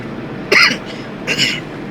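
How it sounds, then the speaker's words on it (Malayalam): Two short coughs from a person on a cold travel trip near Nandi Hills, the first sharper and louder, the second softer about a second later, close to the microphone over low background hum. "ഈ ചുമ പോകുന്നില്ല."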